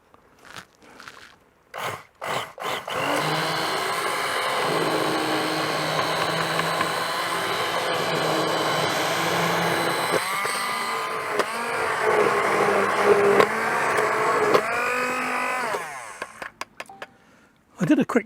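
A blender blitzes homemade spicy tomato ketchup cooked in a pressure cooker: a few short pulses, then a loud continuous whirring roar that shifts pitch midway as the contents thin, before cutting off.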